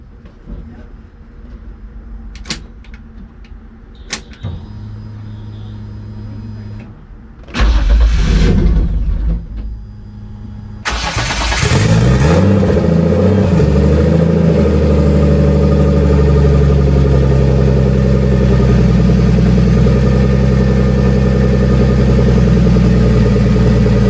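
A few clicks, then a starter cranks and a turbocharged BMW E30's engine catches on its first start, roaring up and running steadily and loudly to the end.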